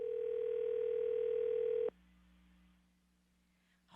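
A steady telephone dial tone drones loudly for about two seconds as a call is placed, then cuts off abruptly into a faint lower hum and near silence.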